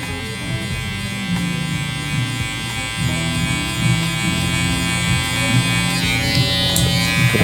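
Electric hair clippers fitted with a one guard buzz steadily while cutting a taper fade, a close, continuous motor hum with slight shifts in tone as the clippers move through the hair.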